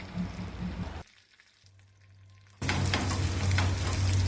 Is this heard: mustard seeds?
yes